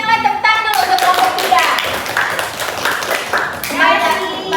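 Children in a classroom clap for a group that has just presented, a loose patter of small hands mixed with overlapping kids' voices and chatter, fairly loud and close throughout.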